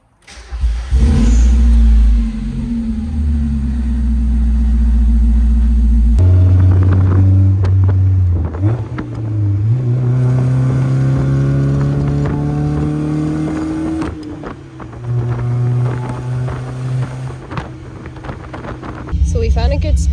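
A car, either a Miata or an E36, drives along a road with a loud, steady engine drone and gear-linked pitch rises as it accelerates, heard from inside.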